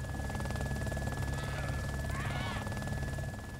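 A helicopter in the video game DayZ drones steadily with a throbbing rotor hum at moderate distance, heard under a person talking.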